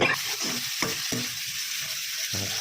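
Khepcha stirred in a pan, a close sizzling hiss broken by a few quick scraping strokes of the spatula, no talking.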